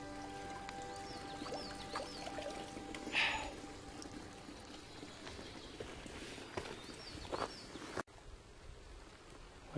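Fresh spring water runs and trickles steadily in a quiet hillside woodland, a soft continuous flow close by with faint birdsong and scattered small knocks around it.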